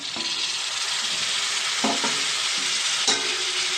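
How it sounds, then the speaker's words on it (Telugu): Tomatoes go into onions already frying in a pan. A steady loud sizzle runs throughout, with a few clattering stirs and scrapes on top and no voices. "ఉల్లిపాయలు బాగా ఫ్రై అయిపోయినాయండి. ఇప్పుడు టమాటా వేసేద్దాం."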